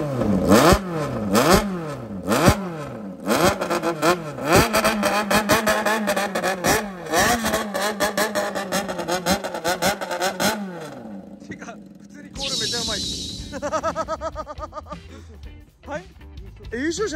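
A vintage second-generation Honda CBX motorcycle with a Brass Magic brass muffler revs repeatedly at night on Enoshima, loud close bursts of rising and falling engine pitch in a rhythmic throttle-blipping pattern, with voices talking nearby toward the end.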